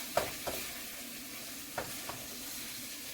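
Finely diced meat and vegetable filling for Filipino lumpia cooks in a pan, a quiet steady sizzle broken by a few soft scraping stirs near the start and middle.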